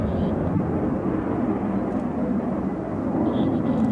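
An aircraft at an air show roars past with a broad, steady rumble, loud and continuous throughout.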